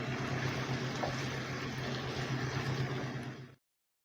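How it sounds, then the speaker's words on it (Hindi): Water poured into a pot of fried meat, a steady faint rushing pour with a low hiss that runs continuously and then cuts off sharply near the end. "अब इसमें हम पानी शामिल करेंगे 2 गिलास करीब, ताकि गोश्त अच्छे से गल जाए"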